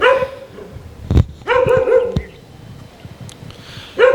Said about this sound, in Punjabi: ਇਹ ਜਿਹੜੇ ਡੌਗਸ ਤੁਸੀਂ ਦੇਖ ਰਹੇ ਹੋ ਇਹ ਕੋਈ ਬਾਈ ਦੇ ਰੱਖੇ ਹੋਏ ਡੌਗਸ ਨਹੀਂ ਹੈ